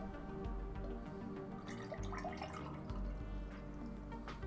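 Water runs steadily from a tap to fill a container, a close, continuous rushing and splashing hiss with no pauses or voices.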